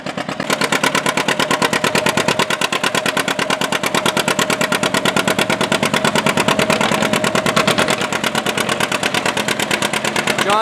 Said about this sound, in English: there's a tractor pull going on